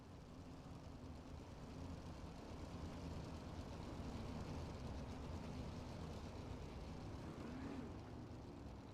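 Race cars on a dirt track at a 410 outlaw series event, a steady continuous engine roar with a rising whine near the end, heard from a distance without talk.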